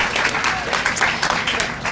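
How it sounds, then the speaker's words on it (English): Crowd at a community redevelopment celebration breaking into loud applause, many hands clapping in a thick, even burst that keeps going. "And that is an applause line."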